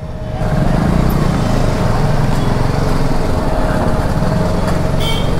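Dense road traffic during a motorcycle ride toward Munnar in Kerala: a continuous broadband roar of engines with low rumble, steady and loud throughout, and faint horn-like tones near the end.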